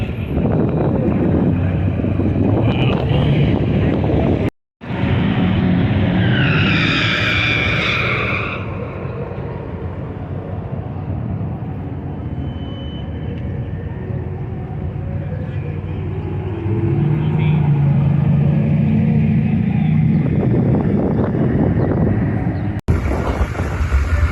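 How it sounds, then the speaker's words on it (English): Wind buffets the microphone outdoors at the Hot Rod Power Tour 2024 car show, a constant rough low rumble running for the whole stretch beneath people chatting nearby. "It's quite windy right here, isn't it, Jake?"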